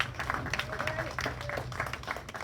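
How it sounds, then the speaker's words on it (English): Applause for club volunteers at an installation dinner, a soft, distant patter of clapping from the room with some murmur and a faint voice mixed in beneath it. "just give everyone a round of applause for that"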